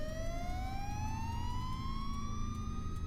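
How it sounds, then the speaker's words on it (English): Police sirens wail with a single rising tone over a low, steady road rumble, loud and unbroken throughout. "Minutes later, I could hear police sirens."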